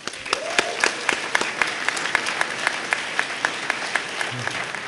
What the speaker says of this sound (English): why don't you give him a round of applause